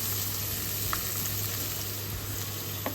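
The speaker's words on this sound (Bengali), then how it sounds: "পেঁয়াজটা মোটামুটি ভাজা হয়ে গেছে, খুব বেশি ভাজবো না।" Onion and green chili fried in a pan, an even, close sizzle that runs without a break, with a couple of faint clicks on top.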